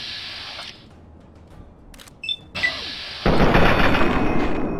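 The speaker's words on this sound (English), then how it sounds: "Minigun guys coming around the corner." Minigun fire in Fallout 3 cuts in partway as a sustained, loud burst of rapid gunfire, following quieter game ambience and a few sharp clicks and thuds.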